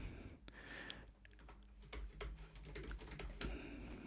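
Fast, steady typing on a computer keyboard while coding, with rapid close key clicks and occasional heavier keystrokes over a low room hum, no voices.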